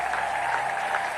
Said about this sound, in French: Est-ce qu'on peut acclamer très fort pour le Seigneur?